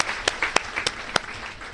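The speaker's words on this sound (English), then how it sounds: "Applaud yourself." An audience applauds steadily at a live event, with a dense patter of clapping and a few sharper, louder claps standing out.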